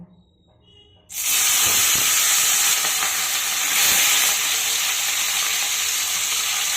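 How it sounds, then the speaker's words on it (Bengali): Pomfret fish dropped into hot mustard oil in a kadai, bursting into a loud, steady sizzle after a second of quiet and holding strong with no talk. "এবার আমি মাছগুলোকে ভেজে নেব"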